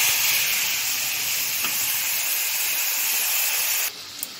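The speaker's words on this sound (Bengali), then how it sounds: "তো চলো মশলাটা একদম ভালো করে ভেজে নিই।" Spice masala with cumin sizzles and hisses steadily in a pan while frying for a plum chutney. The loud, continuous frying noise drops off abruptly near the end.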